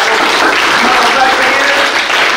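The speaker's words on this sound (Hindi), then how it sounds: "इसलिए मैं इनके लिए जोरदार तालियों से जो है" Loud, dense applause from a crowd at a school honor ceremony, a steady continuous wash of clapping filling the room from start to finish.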